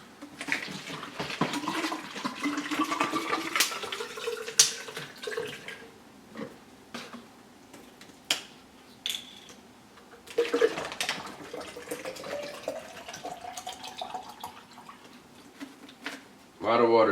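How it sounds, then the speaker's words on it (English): Water from a tap pours into a plastic protein shaker bottle in two long runs, the pitch rising as it fills, broken by clunks and handling knocks between pours. "I'm going to top this off with water."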